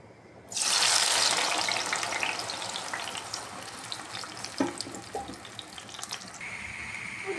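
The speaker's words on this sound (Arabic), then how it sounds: "خديت انا مقيله درت فيها شويه ديال الزيت فاش غادي نشحر هذيك المطيشه ديالي" Grated tomatoes and a garlic clove hit hot oil in a frying pan with a sudden loud sizzle that gradually settles into a steady crackle, with a few light utensil clinks near the end.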